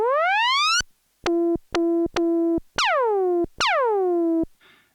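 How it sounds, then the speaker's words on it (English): Stylophone Gen X-1 synth producing a series of electronic effect sounds: a rising swoop, three short clipped beeps, then two falling pitch drops, each loud and separated by brief silences, with faint noise at the end. "You can also control the pitch of the oscillator from the envelope."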